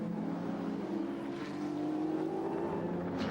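A 620-horsepower Nissan race car at Bathurst roars down the straight, its engine a steady, droning howl with a slowly shifting pitch, heard from a distance and fairly faint, with no voices over it.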